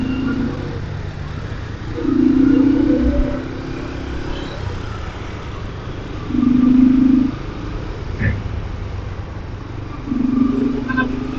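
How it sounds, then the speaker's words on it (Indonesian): Busy evening road traffic with cars and motorcycles at a congested junction in Johor: a steady rumble with engines swelling loudly as vehicles pass every few seconds, plus a brief sharp knock midway. "Jadi kalau sekarang udah padat jalanan, udah rame."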